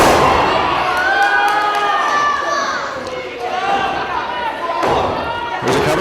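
A standing suplex in a retro televised pro wrestling match, with a body hitting the mat amid loud crowd cheering and shouting, including young voices, and an announcer talking over the action.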